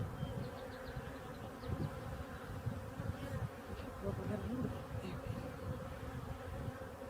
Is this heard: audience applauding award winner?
no